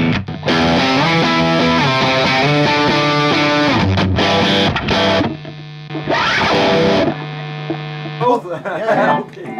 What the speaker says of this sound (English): And over here we have a distortion,